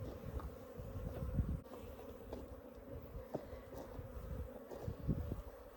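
Honey bees from a hive built inside a water meter box buzz in a soft, continuous drone up close, with individual bees whizzing past the microphone, and no talking.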